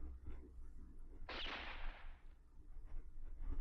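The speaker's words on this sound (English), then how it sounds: "As he cried out, I heard a gunshot." A single sharp gunshot cracks out once in the visual novel game Sweet Fuse: At Your Side, a sudden burst that fades over about a second against quiet background.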